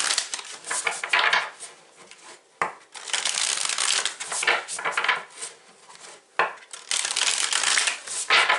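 Tarot cards being shuffled in three long, dense rustling bursts separated by short pauses, close and loud.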